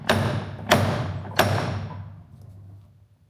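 A silver wedding ring is struck by hand while being shaped into a domed band, giving three firm, evenly spaced knocks, each one ringing briefly and then fading into quiet, close by with no speech.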